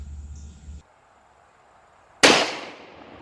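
A Dan Wesson .44 Magnum revolver loaded with +P+ ammunition fires one sharp, very loud shot after a brief hum and near silence, leaving a booming tail that fades away.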